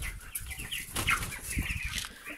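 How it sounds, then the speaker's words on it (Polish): Chickens on a farm cluck in short bursts close by, with wing flapping and scattered squawks mixed in, alone without speech. "Tutaj mamy sobie siedzą kuraki."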